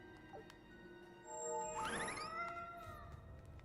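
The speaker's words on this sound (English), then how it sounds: "She heard that meow." A cat meows once in the middle, a drawn-out wavering call heard over a steady background hum, in the horror video game Tales of the Reaper's Curse.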